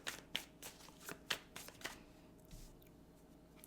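A deck of tarot cards is shuffled close by, giving soft irregular riffles and flicks in quick bursts, quiet and fading off toward the end.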